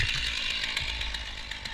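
A chainsaw cutting through a massive tree runs at a steady, high, buzzing whine, loud and close throughout with only slight wavering in pitch.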